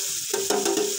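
Pork sisig made from boiled, cleaned pig's face meat is stirred with garlic in a pan, giving a steady close sizzle with scraping strokes of the spoon.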